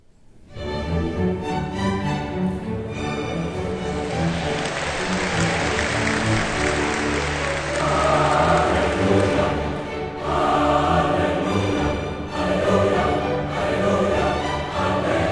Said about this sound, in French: le public s'est mis spontanément à applaudir au début du morceau.